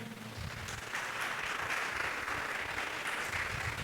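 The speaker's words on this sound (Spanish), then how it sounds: "Dale un fuerte aplauso al Señor" A church congregation gives a strong round of applause to the Lord during an online worship service, sustained steady clapping that fills the space for several seconds at moderate level with no talk over it.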